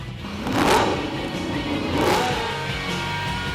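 A Superleague Formula race car at Vallelunga near Rome accelerates down the main straight in sixth gear; the engine note surges and rises in two strong revving sweeps, loud and close, with no talk.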